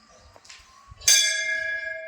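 A bell at a Mariai Mahalakshmi Mata temple is struck once, ringing out loud and clear, its bright tone lingering and slowly fading after a few soft sounds beforehand.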